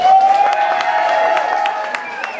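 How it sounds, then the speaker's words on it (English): A crowd at an awards ceremony applauds and cheers, sustained clapping with a whistle-like tone and voices mixed in. "Round of applause"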